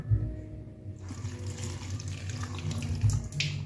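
Cooled mango puree poured into a blender, a steady liquid gush with splashing that runs the whole time at close range and no talking.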